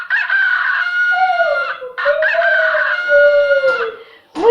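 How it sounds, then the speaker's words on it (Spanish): A rooster crows loudly and up close in a farm setting, two long drawn-out cock-a-doodle-doo calls with a brief pause between them, and the start of another cut off at the end. "El gallo canta."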